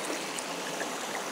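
A river stream flows with a steady, even rush of water, continuous and fairly faint.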